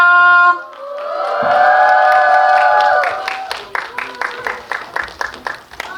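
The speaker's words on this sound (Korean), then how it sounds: "박수 부탁드려요" Cinema audience at a Korean film's stage greeting in a CGV theater, where excited shrieks and cheers come first, then a burst of loud, scattered clapping as the director and actors enter.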